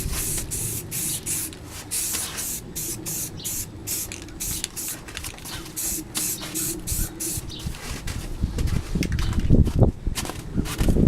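A spray gun lays color and clear coats on a Honda, a steady close hiss pulsing in short bursts between passes, with a low background rumble in a cold workshop.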